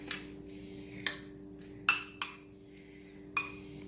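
Black bean and corn salad being mixed with a spoon in a bowl: a few soft scrapes and four or five distinct metallic clinks against the bowl, close and quiet, no talking.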